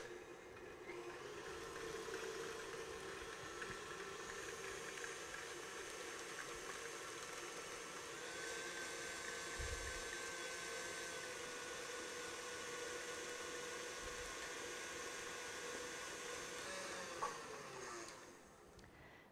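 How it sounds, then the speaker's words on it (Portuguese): An electric stand mixer beats cake batter for a giant cupcake as eggs are added, giving a steady, even motor whir and churning that run without a break, fairly quiet and alone. "Então vamos bater de novo, acrescentando os ovos."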